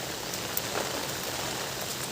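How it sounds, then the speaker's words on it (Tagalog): Steady rain patters on surfaces around a pineapple field in a downpour, a constant wash of drops with no pauses, alone and fairly close. "Umulan na umulan, hanggang ngayon naulan."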